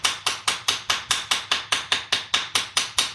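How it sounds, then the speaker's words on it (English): Wire being hammered straight while making a tensor ring: a steady, even run of about fourteen sharp metallic strikes, close and fairly loud, each ringing briefly before the next, with no talk. "as you're hammering, just make sure you're keeping your wire straight as you go"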